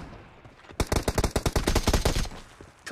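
AKM assault rifle fire in Battlegrounds Mobile India, a rapid burst of roughly a dozen sharp, evenly spaced shots lasting about a second and a half, loud and close, preceded by quiet background and followed by a fading tail.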